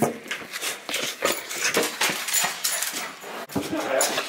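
An excited dog whimpers and whines in short repeated bursts amid rustling, jingling tags and clattering movement, close by and fairly loud, with no clear talk.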